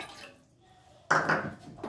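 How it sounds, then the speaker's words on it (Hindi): Hot water is poured into a bowl to make flavored jelly, a brief splashing pour that starts abruptly after a quiet moment, with soft clinks of kitchenware at close range. "ये देखिए पानी मैंने आपके सामने डाला"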